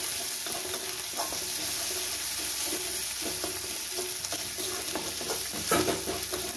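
Ginger paste fries in oil with onions for a fish curry, a steady close sizzle punctuated by soft scraping and tapping of a spatula stirring the pan.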